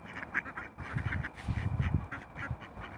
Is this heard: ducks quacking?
yes